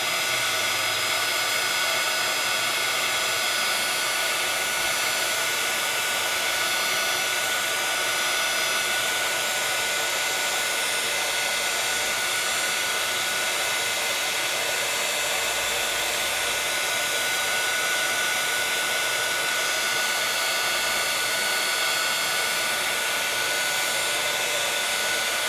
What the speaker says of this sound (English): heat tool.